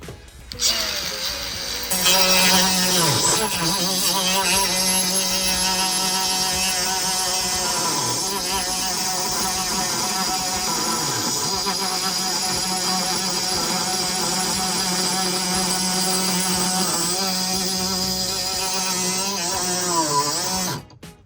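An angle grinder fitted with a diamond grinding disc cuts into a Harley-Davidson 5x7 to 6x9 speaker adapter part, a loud, steady high-pitched whine held close for about twenty seconds with slight dips in pitch as it bites.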